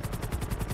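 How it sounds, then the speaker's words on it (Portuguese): Rapid gunfire in the video game GTA 5 roleplay, a quick burst of repeated shots at a steady rhythm, moderately loud, with no talk. "Ah, ele tá dando tiro."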